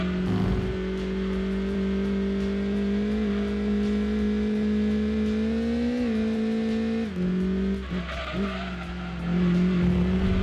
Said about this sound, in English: this car makes a little bit of noise, but it's a good noise